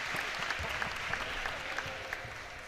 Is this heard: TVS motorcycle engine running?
no